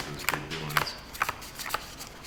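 Playing cards being shuffled at a criss cross poker table, a few quick riffling bursts spaced across a couple of seconds, close and fairly quiet, with a brief voice in the background.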